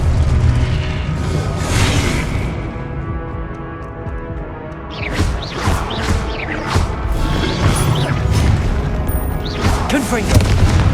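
Confringo blasting-curse explosions in the Hogwarts Legacy video game, a run of loud booming blasts and crashing impacts, one early then several in quick succession later, with game voices and effects mixed in.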